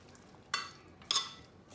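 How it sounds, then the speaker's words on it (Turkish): Two brief scraping swishes of a utensil moving through tuna salad in a bowl, spaced about half a second apart, fairly faint and close with no talking. "Şimdi güzelce şöyle karıştıralım."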